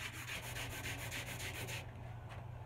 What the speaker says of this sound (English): if you get a clogged wood rasp, you want your little file cleaner, file cleaning brush, just lay it on